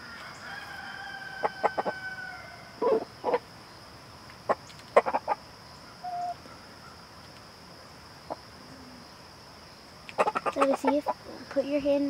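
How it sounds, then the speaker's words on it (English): A pair of black Icelandic chickens clucking in short, scattered bursts over a steady high whine, with a quick flurry of clucks near the end; faint background noise throughout. "the two black Icelandic chickens are doing really well."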